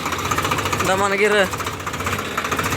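A tractor engine runs with a steady, rhythmic low thrum and mechanical knocking, heard from the seat while someone speaks briefly over it.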